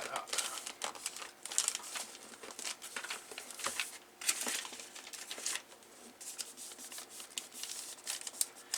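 Christmas gift wrapping paper being creased and folded around a box, giving close, continuous crinkling and crackling with sharp rustles and a few louder snaps throughout.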